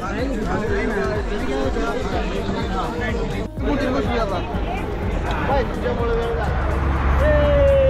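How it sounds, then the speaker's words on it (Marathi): Dense crowd chatter from many people at Rajapuri jetty while waiting for the boat to Janjira fort, a steady babble of overlapping voices that runs throughout, close around, with a brief dip partway through. "एवढी गर्दी यार"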